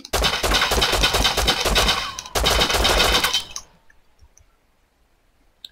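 In the video game Rust a weapon fires rapid automatic bursts, two loud sustained runs separated by a short break, before cutting off into near silence.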